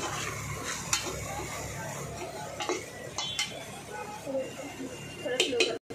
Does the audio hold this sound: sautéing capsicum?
yes